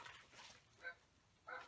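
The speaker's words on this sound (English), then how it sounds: "I apologize if you hear the dog barking." An indoor dog gives faint, distant yips and short barks, a few separate bursts spaced apart over a quiet room.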